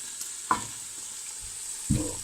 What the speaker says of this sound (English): I'm going to throw my ginger, my garlic in with them now